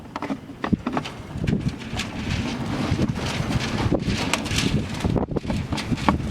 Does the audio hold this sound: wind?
yes